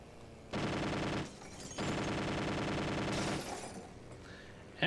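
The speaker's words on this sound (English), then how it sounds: "So now our machine guns are even more menacing." Rapid machine gun fire from a World War II-era fighter plane in the Airfix Dogfighter video game, two sustained bursts with a short gap between them over a low engine drone, with no talking.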